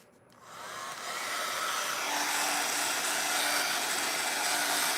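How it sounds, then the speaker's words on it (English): An underpowered hair dryer switches on and blows steadily with a loud, broadband whoosh and a faint whine, running continuously without pause. "The hairdryer doesn't work as well. It makes a lot more noise."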